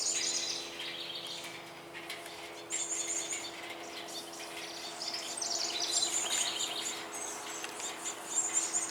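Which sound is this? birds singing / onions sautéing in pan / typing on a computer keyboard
birds singing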